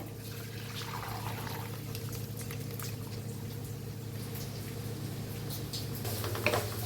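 Water from cooked moth beans pours steadily through a strainer, a continuous rushing trickle over a low hum, with no talking.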